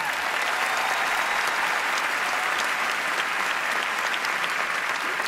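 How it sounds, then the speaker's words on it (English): A large Emmy Awards audience applauds for the nominated actors, a loud, dense, continuous wall of clapping that holds steady for the whole stretch. "Can we please have another round of applause for Jim Carter, Josh Charles, Peter Dinklage"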